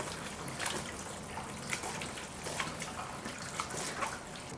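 Cooked noodles are rinsed under cold running water, giving a steady, soft splashing stream with faint drips throughout.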